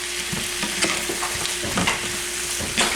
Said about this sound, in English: we're gonna put some salt and pepper on the squash and onions, and we just let it cook for about 7 minutes